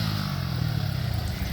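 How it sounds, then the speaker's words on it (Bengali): A motorcycle engine during a wheelie ride holds a steady, loud, low droning rumble close by, with no talk over it. "এবার বাইকের হুইলি দেখবে"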